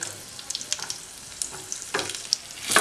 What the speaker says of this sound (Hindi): इसी टाइम डालते जाएंगे, ये फ्राई भी होते जाएंगे